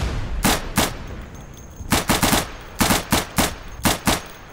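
Bursts of machine gun fire in the video game Day of Infamy, a pair of short volleys followed by two rapid rhythmic strings of shots, loud and close with no talk over them.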